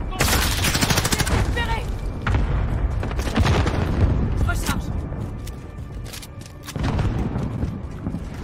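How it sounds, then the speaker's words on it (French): Enemy cluster strike in Modern Warfare 2019 multiplayer, heavy rumbling booms and dense bursts of gunfire stacking up loudly across the whole stretch, with game voice lines coming through over the blasts. "Frappe à dispersion ennemie imminente."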